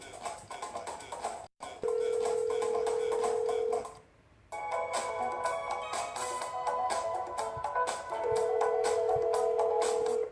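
Outgoing phone call to a seller about a wholesale deal, ringing on the line: a steady tone sounds twice, a long ring followed by a pause and a second ring, over background noise and clicks.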